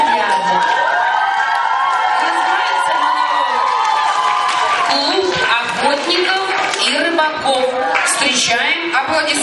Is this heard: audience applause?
yes